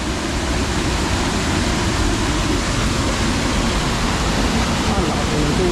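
A strong waterfall roars in a steady, dense wash of rushing water, loud and close, filling the whole clip without a break.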